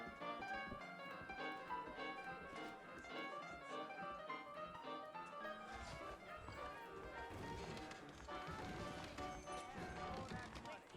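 Horse hooves clip-clop in a steady rhythm across the New Austin terrain of the video game Red Dead Redemption, mixed with ambient game sound and characters talking over the top.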